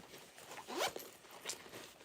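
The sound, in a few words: closing a zipper pocket on a shoulder bag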